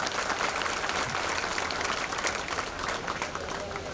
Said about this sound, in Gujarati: એવી આ દીકરીને આપણે તાળીઓના ગગડાટથી પ્રોત્સાહન આપશું